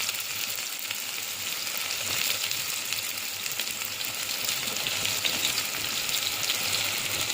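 Onions hit hot oil in a pressure cooker for a soya chunks veg biryani, giving a constant crackling sizzle that stays close and even throughout, with no voices.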